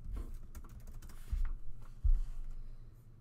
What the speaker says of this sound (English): I'm just going to type in flower.